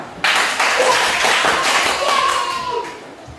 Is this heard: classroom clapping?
yes